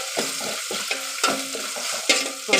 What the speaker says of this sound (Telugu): వేగిన తర్వాత చికెన్ అయితే వేసుకున్నాం. పచ్చి వాసన పోయేదాకా వేగిస్తాం.